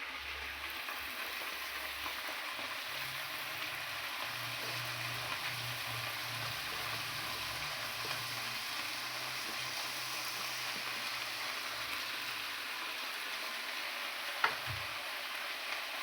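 Flat beans sizzle steadily in a hot frying pan, part of a vegetable dish with spinach and green chillies: a continuous, even crackle of frying that fills the whole stretch without any talking.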